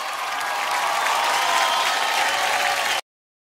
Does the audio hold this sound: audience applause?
yes